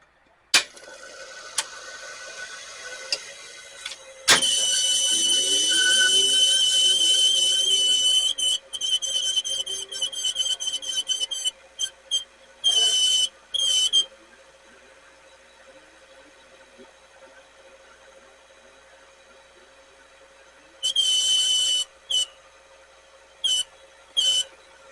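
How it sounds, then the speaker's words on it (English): A Sony VO-5800 U-Matic VCR with a gummed-up part and poor solenoid engagement squeals on playback: a loud, sustained high-pitched whine for several seconds, then shorter on-off bursts of squeal over a faint mechanical hum. "the squealing noise is affected when I like move that."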